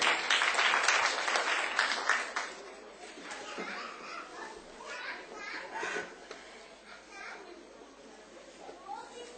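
A crowd at a Tamil church-style gathering breaks into applause, loudest at first and then thinning into scattered claps and children's voices and chatter that carry on beneath it.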